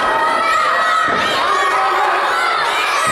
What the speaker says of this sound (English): this crowd giving CJ an earful and a half